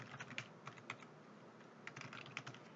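Computer keyboard being typed on during Excel spreadsheet work, with Enter pressed: quiet, close clicks in short irregular bursts with brief pauses, no talking.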